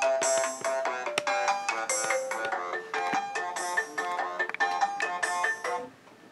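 A phone ringtone plays loudly and close, a bright repeating melodic pattern of tones that runs for several seconds before cutting off.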